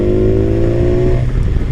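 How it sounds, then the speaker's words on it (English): A 2016 BMW S1000XR motorcycle's engine runs loud and close, a steady droning exhaust note that holds then drops off near the end, with no talking over it. "I like the exhaust note on this. It sounds really good."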